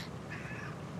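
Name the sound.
cat meowing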